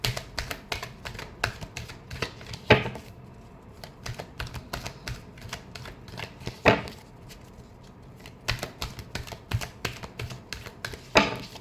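Tarot cards being shuffled by hand, a dense crackling riffle of card edges with a few sharper snaps, steady and close with brief pauses between bursts.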